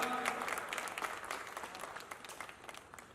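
Audience applause fills a Hindi humour and heroic-verse poetry gathering in Dahisar, a dense steady clapping from a sizable crowd that stays loud and close throughout, slowly thinning toward the end with no talk over it.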